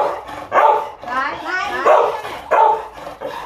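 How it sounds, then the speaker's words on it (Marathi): A Labrador dog begging for food lets out a run of close, excited barks and yips, separated by brief whines. "ऑडीला कळलं की ती तिला काहीतरी खायला देणार आहे आणि ती भुंकायला लागली"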